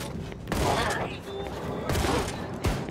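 Heavy shotgun blasts from the Wolfenstein II video game boom out at irregular intervals over a busy combat backdrop, with several loud sharp reports and a mechanical clatter in between.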